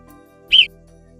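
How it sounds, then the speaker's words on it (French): Single sharp, piercing alarm whistle of an alpine marmot in the mountains around Tignes, brief and shrill, standing alone above near silence. "Les prédateurs terrestres sont accueillis par un concert de sifflements perçants qui sont repris inlassablement à en perdre haleine"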